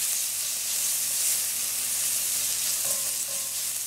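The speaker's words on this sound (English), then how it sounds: "in goes the coconut oil. Once it's nice and hot, you're just going to add in your onions" Onions fry in hot coconut oil with a steady, soft sizzle and crackle throughout, and a brief faint clink near the end.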